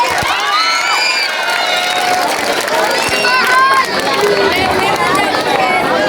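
A pageant crowd at the Amazing Sireyna 2024 national costume segment keeps up loud, continuous cheering, whoops and high shouts, with a dense roar of voices underneath throughout.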